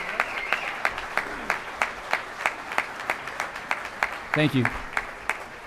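Audience applause for youth football teams at a volunteer recognition dinner, with sharp distinct claps over a room hum and a brief spoken thank-you partway through.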